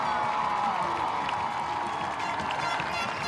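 Oilers high school football fans in the stands at Pearland Dawson cheer and clap after a touchdown, a steady wash of crowd noise heard from a distance.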